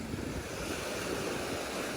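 Ocean surf at Zanzibar rushing and breaking in a steady, dense wash, with gusty wind buffeting the microphone and no voices.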